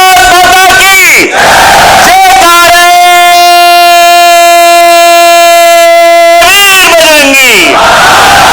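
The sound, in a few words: crowd chanting Bharat Mata ki Jai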